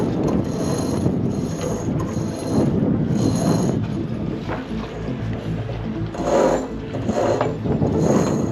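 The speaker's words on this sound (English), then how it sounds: "I'm pulling it through the outhaul block, which is attached to the boom" Sailboat outhaul line on a Catalina 387 furling mainsail pulled through a block on the boom, giving repeated rasping, ratcheting pulley runs in uneven bursts, close and fairly loud.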